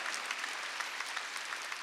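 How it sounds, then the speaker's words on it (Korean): A church congregation at a Sunday worship service claps their hands together, a dense, steady burst of applause filling the room without a break. "박수 치라 이기야."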